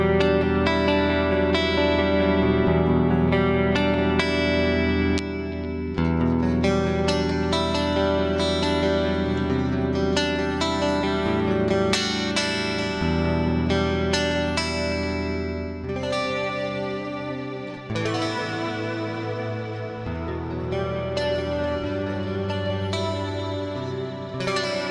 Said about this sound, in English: I really like the sparkly 80s style clean that you can get out of the Rock Guy compressor.